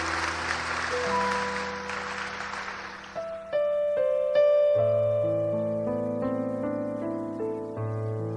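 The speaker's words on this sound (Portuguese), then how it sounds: "Vamos aplaudir a palavra de Deus." Church congregation applause for the reading, a burst of clapping in the first few seconds that gives way to organ or keyboard music with sustained notes.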